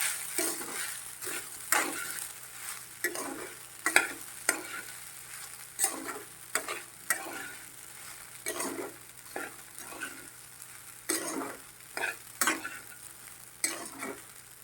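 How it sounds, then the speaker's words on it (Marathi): Sabudana khichdi with crushed peanuts cooking in a pan over medium heat, stirred again and again in quick scraping strokes over a steady soft sizzle, close and without talk. "तर मध्यम गॅसवरती आपण 2 ते 3 मिनिट आपण शिजवून घेऊया."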